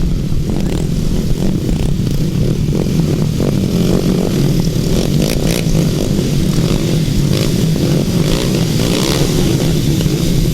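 350cc grasstrack racing motorcycles rumble and rev together as they head out for a heat, a loud, dense, continuous engine roar with no break throughout.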